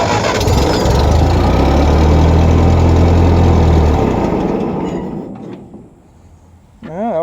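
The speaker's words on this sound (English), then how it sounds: "Let's turn our fuel on and give her a crank up." Cheap refurbished tractor engine cranking with the choke on, then catching into a loud, rough run for a few seconds before dying down near the end, followed by a brief whine.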